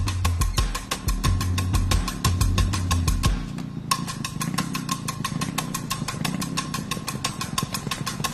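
A faulty motorcycle engine idles with a steady, rapid mechanical putter, heavier low rumble at first, then a brief dip before the even idling resumes, close and continuous.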